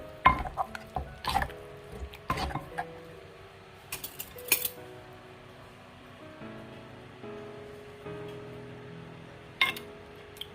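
Grilled eggplant salad dressed with fish sauce is tossed and mixed by hand in a bowl. Irregular soft clacks and scrapes come in bursts, separated by quieter stretches with faint background hum.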